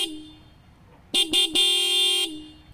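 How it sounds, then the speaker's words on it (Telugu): Horn of a 2024 TVS Apache RTR 200 4V motorcycle, sounded close up: two short toots followed by one longer, steady blast of a bright electric horn. "సో హార్న్ యొక్క లౌడ్నెస్ ఎలా ఉందో ఒకసారి అయితే చెక్ చేద్దాం."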